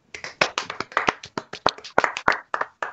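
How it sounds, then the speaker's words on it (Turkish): A small studio group gives a quick round of applause on a Turkish wrestling radio show, a sparse handful of distinct, close hand claps in an uneven burst lasting a few seconds. "Bir alkış atalım."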